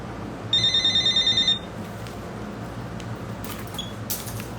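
A telephone rings in a quick series of electronic trills, then stops abruptly before being answered, followed by low background hiss and faint clicks.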